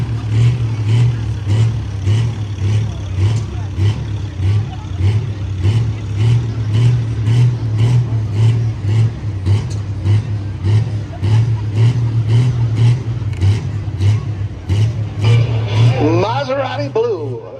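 A New Holland Pro Stock pulling tractor, painted a special-edition Maserati blue, roars loud and steady at a tractor pull, its deep engine note pulsing rapidly and evenly throughout before briefly dropping off near the end.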